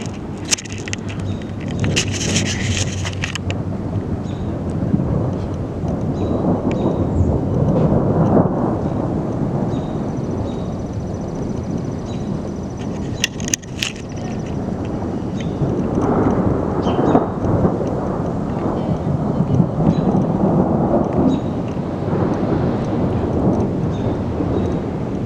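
Thunder rolls and rumbles through a lightning storm in North Platte, with long deep booms over continuous wind and rain noise. The storm sounds loud and close throughout.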